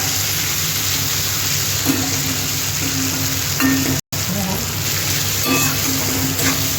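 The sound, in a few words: onions frying in a pan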